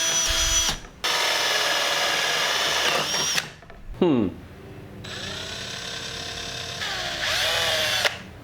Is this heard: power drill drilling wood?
yes